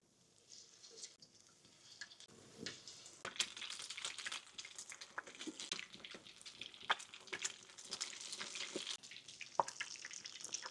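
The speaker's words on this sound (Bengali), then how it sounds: "তো এখন আমি চিকেন উইংস গুলো ছেড়ে দিচ্ছি।" Chicken wings going into hot oil for fried chicken, a faint hiss building into a steady bubbling crackle with scattered pops, close and continuous.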